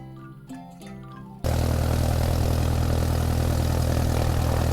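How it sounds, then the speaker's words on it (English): A propeller airplane's engine drones steadily and loudly, a constant low hum that cuts in abruptly after a short stretch of quieter sound and holds unchanged to the end. "An airplane."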